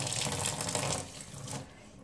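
Tap water runs steadily into a basin where a dirty old T-shirt is being hand-washed with antibacterial soap to get whites clean, a broad continuous splashing flow that tapers off near the end.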